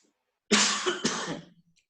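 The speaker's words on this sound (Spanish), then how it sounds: "Perdone por la tos, pero estoy bastante congestionado" A congested man gives a single sharp, close cough with a second harsh burst right after, in a quiet room with no other sound.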